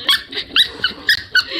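A dog gives a quick run of squeaky, yelping vocal bursts, about six short calls in under two seconds, loud and close with no talking.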